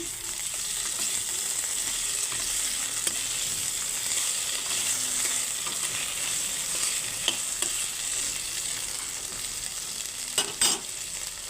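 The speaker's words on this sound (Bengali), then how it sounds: "আলুটা ভাজা ভাজা হয়ে গেছে এই পর্যায়ে আমি এখন আদা বাটা দিয়ে দেবো" Potatoes with ginger paste frying steadily in a pan for a vegetarian okra dish, a continuous close hiss of sizzling oil with occasional stirring scrapes and a couple of louder clinks near the end.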